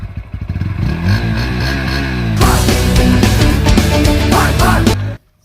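A motorcycle starts up close by, idles briefly, then revs loudly and pulls away with a clattering engine note before cutting off abruptly at the end.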